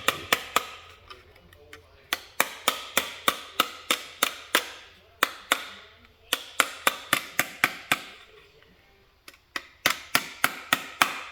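Metal gauge bracket on a Ford Super Duty being hammered, sharp close strikes in rapid runs separated by brief pauses.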